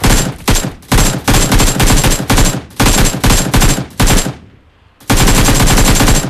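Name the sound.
shotgun gunfire in a video game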